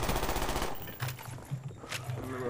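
Black Ops 1 gunfire on PC rings out as a rapid burst of shots, then a few scattered reports under game ambience, loud and close in the mix.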